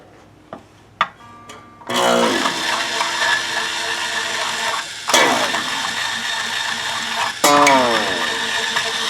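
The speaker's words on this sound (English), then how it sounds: "I've been charging up my Ernie Ball string winder, so we should be good to go here." Ernie Ball battery-powered string winder unwinding the strings off a Jay Turser resonator guitar, with a whirring motor that starts and stops in three bursts between a few clicks and handling taps.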